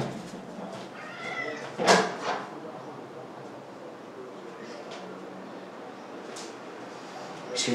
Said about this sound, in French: il veut sortir maintenant le chat.